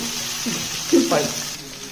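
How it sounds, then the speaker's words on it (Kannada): Mackerel frying on a tava, Malpe style, being gently flipped: a continuous sizzle of hot oil with a soft flurry of movement midway, and a voice murmuring over it. "ಒಳ್ಳೆ ರೀತಿಯಲ್ಲಿ ಫ್ರೈ ಮಾಡಬೇಕು."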